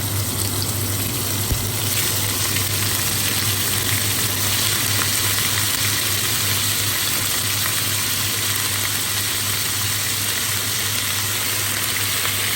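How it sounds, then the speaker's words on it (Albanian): Pieces of veal for goulash frying in a pot of hot oil, a steady loud hiss and crackle that holds throughout, close by with no voices. "Vaja është nxehur, tash e hedhim pa mishin."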